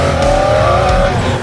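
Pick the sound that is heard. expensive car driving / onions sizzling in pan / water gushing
expensive car driving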